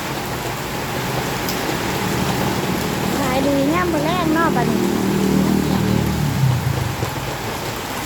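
Heavy downpour in Lat Phrao, Wang Hin, a constant loud hiss, while a person talks over it partway through.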